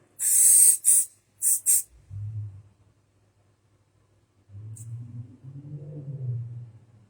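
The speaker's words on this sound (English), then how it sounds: "Now I'm going to spray in the front." Hairspray from an aerosol can is sprayed onto hair in three quick, loud, close hissing bursts, the last two in rapid succession, followed by quiet with a faint low voice.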